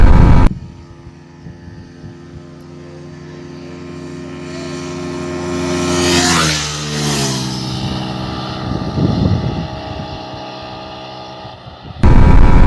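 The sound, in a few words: Yamaha MT15 motorcycle engine throttling during drag race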